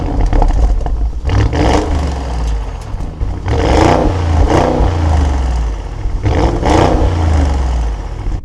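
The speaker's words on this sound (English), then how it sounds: "The exhaust is nasty." Audi SQ8 with a twin-turbocharged V8, exhaust revved repeatedly in loud blips with deep rumbling idle between them, close and alone.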